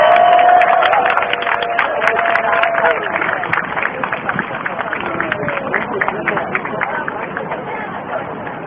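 Large outdoor crowd at a candlelight rally in Gwanghwamun applauds, a dense wash of clapping that starts loud and slowly thins, with some murmur and cheering mixed in.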